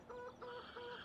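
Chickens at a chicken coop in the Farming Simulator 17 video game cluck in three short repeated bursts, faint and alone.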